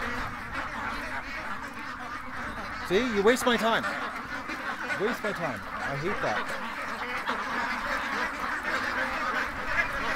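A few honking quacks from ducks close by, under a person talking over a steady background hum.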